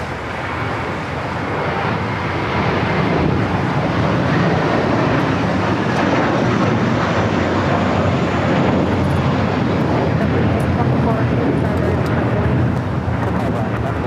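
A JetBlue Airbus A321 airliner at LAX produces a loud, continuous jet roar that builds in the first couple of seconds and then stays dense and steady, with people talking underneath.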